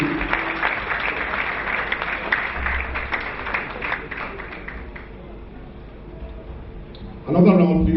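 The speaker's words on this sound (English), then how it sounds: "Please, a very, very warm round of applause for Mr. Leslie Omieno." A large audience claps for Mr. Leslie Omieno at a Penya Barca de Lagos club event, with a dense, sustained applause that slowly fades. A loud voice breaks in near the end.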